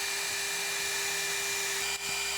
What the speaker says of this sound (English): Next, I'll switch over to a 1/16 end mill and cut out the pockets for the inlays